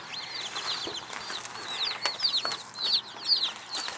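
Dense chorus of baby chicks peeping in a shipping box just picked up from the post office, high rapid chirps overlapping continuously and fairly close, with no talk.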